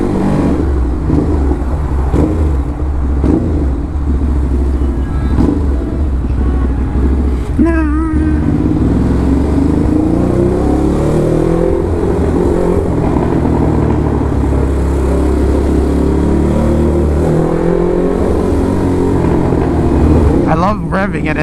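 Ducati Hypermotard SP motorcycle with an SC Project exhaust on city streets, a loud continuous engine roar with rising and falling revs throughout, with a voice talking over it.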